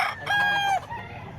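A five-month-old stag rooster crows once close by, a short strained call with a brief rising start and a held middle that cuts off abruptly, leaving quiet background.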